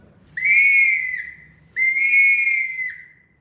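Whistle imitating an eagle or hawk call, two long bright high-pitched cries that each waver and slowly fall, loud and close with near silence between them.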